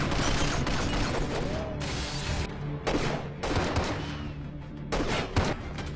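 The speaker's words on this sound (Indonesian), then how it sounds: "Steven menembak pengawal itu dan terjadilah baku tembak antara mereka semua" A gunfight from the film The Mechanic, with dense bursts of gunfire that come in several loud clusters separated by short gaps.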